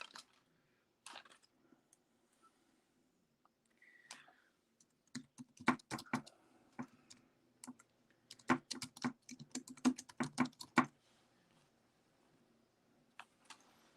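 Quick clicking taps of typing on a phone, heard as scattered single taps at first and then a dense rapid run of clicks in the middle before thinning out, close and fairly quiet with no talking.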